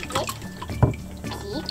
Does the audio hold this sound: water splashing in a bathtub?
yes